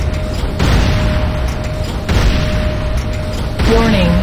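GDI weapons factory blowing up in the Renegade video game, several deep booming blasts in sequence amid battle noise, with a voice speaking near the end.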